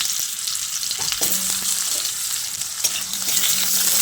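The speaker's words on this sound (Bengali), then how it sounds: "আলুটা দিয়ে তেলের সঙ্গে মিশিয়ে নিয়ে আলুটাকে কিছুক্ষণ ভেজে নেব।" Cut potatoes frying in oil with dry red chillies and nigella seeds, a loud continuous sizzle close by, broken by a few spoon-stirring scrapes against the pan.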